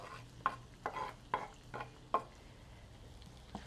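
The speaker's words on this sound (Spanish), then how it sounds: "Y lo vamos a dejar que se fría otro poquito ya con la verdura" Chorizo and chopped vegetables frying in a pan, with a soft steady sizzle under several scraping stirs of a spoon, close and fairly quiet.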